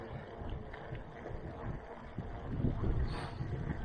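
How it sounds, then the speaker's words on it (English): Wind buffets the microphone during a mountain bike ride on a park bike path, a low, rumbling, gusty roar that swells louder toward the end, close and steady with no voices. "Man, it's getting windy over here."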